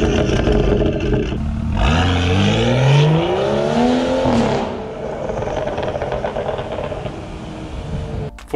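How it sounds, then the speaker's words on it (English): A BMW 335i (F30) fitted with an AWE aftermarket exhaust revs loudly and closely, engine pitch climbing in a sweep before settling back into a steady idle-like drone. "I really like that deep tone that this exhaust produces"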